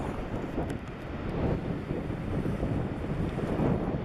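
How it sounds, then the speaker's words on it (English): Steady wind buffeting the microphone by the Niagara whirlpool, a continuous low rumbling roar with gusty swells, no voices. "it's a little windy"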